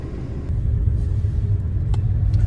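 Car driving on a sunny day, a fuel-efficient model doing about 70 miles to the gallon, with a steady low engine and road rumble from inside and a few faint ticks and knocks over it.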